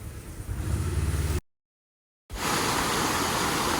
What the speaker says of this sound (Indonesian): ini adalah air terjunnya